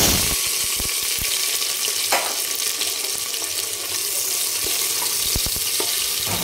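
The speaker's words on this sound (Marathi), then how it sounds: "तर इकडे कुकरमध्ये आपण 2 चमचे तेल टाकलेलं आहे। तर याच्यामध्ये आता आपण कांदा टाकून घेऊ।" Chopped onion sizzles in two spoons of hot oil inside a pressure cooker, a steady close crackling hiss broken by scattered clicks and scrapes of stirring.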